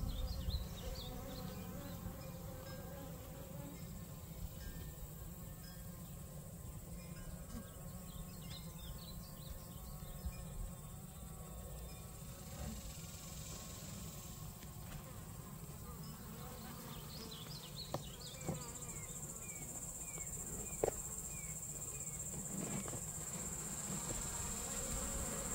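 Honeybees swarm and buzz around an open hive during a summer inspection, a steady dense drone close by with occasional louder passes of individual bees and faint handling knocks.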